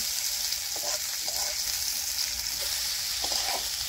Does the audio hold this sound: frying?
yes